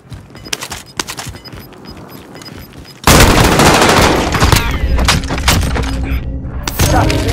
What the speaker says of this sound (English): Shots inbound.